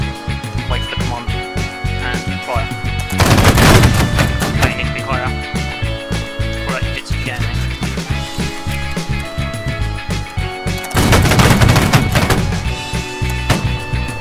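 Line infantry in a multiplayer video game line battle fire musket volleys, two dense crackling bursts of many shots about eight seconds apart, over a busy background of scattered shots and game noise.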